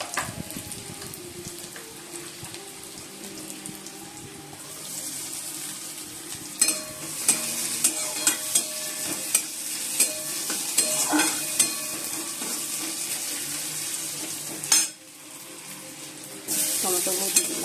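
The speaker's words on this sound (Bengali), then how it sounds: "একটা পেঁয়াজে অর্ধেক পেঁয়াজ ভেজে দিচ্ছি" Small onions frying in a pan hiss steadily while a spoon scrapes and clinks against the metal in a regular series of sharp taps, the sizzle dipping briefly then returning louder near the end.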